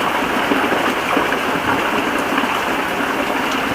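Steady heavy rain pours down in a continuous hiss that fills the whole clip, with no voices over it.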